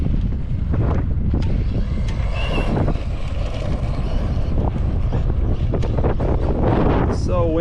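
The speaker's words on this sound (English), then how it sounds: "So windy. I really hope this doesn't ruin all my footage." Strong outdoor wind buffets the microphone in loud, continuous rumbling gusts during a first drive of a Traxxas Rustler 2WD RC truck, with a faint voice and brief higher-pitched noises near the end.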